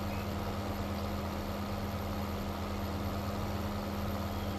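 A tractor engine idles steadily nearby with a constant low hum and a droning tone that stays unchanged throughout, with no speech.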